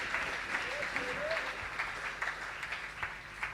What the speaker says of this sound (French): Mettons-nous et acclamons très fort pour la gloire de Jésus.